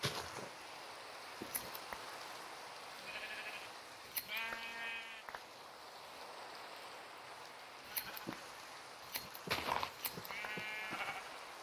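Several Minecraft sheep bleat a few times at intervals over a soft, steady background hiss with occasional light clicks.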